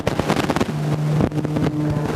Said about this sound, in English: climbing the airplane now, doing a series of rolls to get some altitude